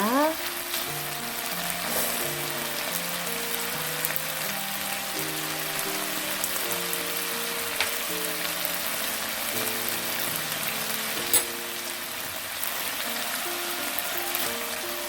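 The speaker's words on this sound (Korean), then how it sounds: "이 국물이 고기로 다시 들어갈 때까지 볶아주셔야 돼요" Pork bulgogi in soy sauce sizzles loudly in a hot pan with a constant crackling hiss, stirred now and then until its juices cook back in, while soft music plays underneath.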